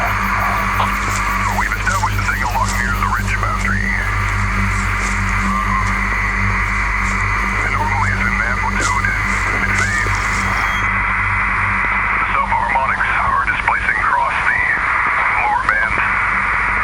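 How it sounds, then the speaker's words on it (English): Continuous hissing radio static with warbling, whistling interference tones runs loud and unbroken throughout, as a recovery unit's communications degrade. "Residual signal interference was confirmed prior to ground ingress."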